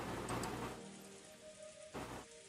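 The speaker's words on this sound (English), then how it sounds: "the quiet sound of the continuing wind and rain" Steady rain patters across a surface under a soft, constant wind wash, fairly faint and unbroken, with a couple of slightly louder gusts or bursts of heavier drops.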